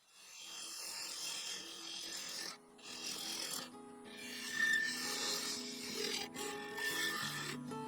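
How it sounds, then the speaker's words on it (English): A bowl gouge cutting cherry wood on a running lathe, a loud close rasping shear in long sustained passes separated by brief pauses, with a faint underlying hum. "Using the bowl gouge, I cut into the cherry, alternating between the top and bottom cut lines,"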